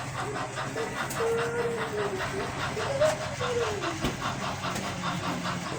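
A fast-moving train rumbles and hisses steadily, a sustained mechanical drone with a wavering tonal whine rising and falling over it, fairly loud and continuous.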